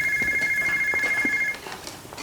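A phone rings with an incoming call, a steady electronic ringtone pulsing for about a second and a half before cutting off, leaving quiet room sound.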